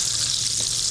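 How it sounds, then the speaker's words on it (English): Oysters pan frying in hot oil, a steady close-up sizzle and crackle that runs without a break, with no talking over it. "be careful with oysters when you're pan frying them like this"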